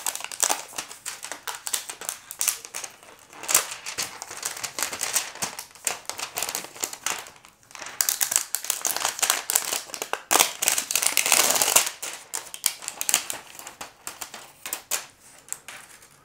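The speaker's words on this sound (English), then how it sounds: "let's just remove the tape here" Tape being peeled and crinkled off the packaging of a Nothing Phone (1) handset, a dense run of close crackling and tearing bursts that swells and fades over several seconds, with no talking.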